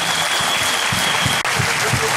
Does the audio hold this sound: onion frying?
no